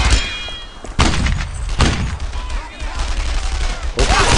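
Heavy gunfire from the World War II shooter Brothers in Arms: Earned in Blood: loud bursts of fusillade and sharp shots with thudding impacts, recurring through the stretch, with voices shouting orders over it.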